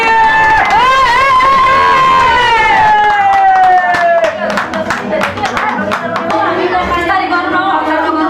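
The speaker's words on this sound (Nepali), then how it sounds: "ताली बजाउँ न" At a wedding, a loud sustained voice rings out first, then a group of guests breaks into a burst of quick, uneven clapping amid crowd noise for several seconds.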